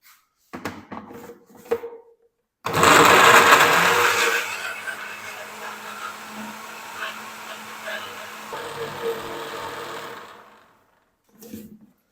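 A mixer grinder blends boiled potatoes with water into a fine paste, a loud close whirring roar that starts abruptly, settles into a steady hum and then winds down, with clicks and handling noises before and after.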